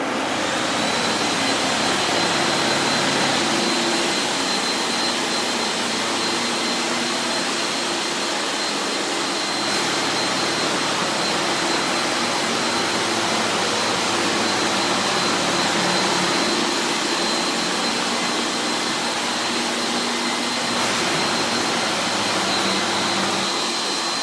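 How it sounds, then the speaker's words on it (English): A loud, steady vacuum roar with a high whine, running continuously without pause, as a floor scrubber sucks up dirty water from hardwood floors. "Then I can engage the vacuum and suck up all the dirty water."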